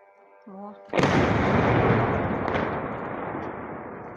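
After a brief voice, a drone strike's heavy explosion booms and rumbles with a long rolling decay, and a second thud lands within it.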